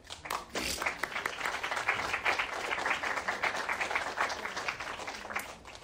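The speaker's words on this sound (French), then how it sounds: "Merci pour vos applaudissements." Audience applause after a film Q&A with a director, a dense, steady wash of many hands clapping at close range for about six seconds, with no talk over it.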